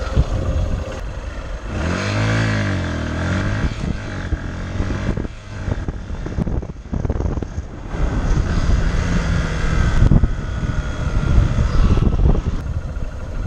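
A Honda CBF 125 motorcycle with a 15-tooth front sprocket accelerates from standstill to 30 mph, the engine note climbing through several gear changes with steady road and wind roar, loud and continuous without speech.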